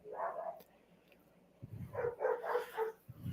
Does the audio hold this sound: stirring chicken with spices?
no